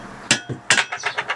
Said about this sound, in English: Just going to be very, very gentle and tap them with a hammer.